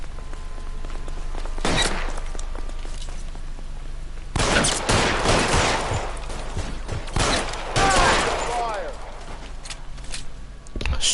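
Gunfire in LA Noire Remastered, with several sharp bursts and rapid volleys of shots spread across the scene, loud and close, with voices talking over parts of it.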